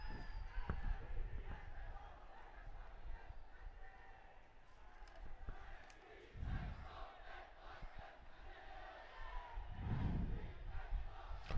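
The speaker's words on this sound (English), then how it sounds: "Quite a bit of crowd for the Antonians" Supporters of St. Anthony's College roar at a 2016 schools rugby match against Royal College, a dense, steady crowd din with chanting voices that swells loudly around the middle and again near the end.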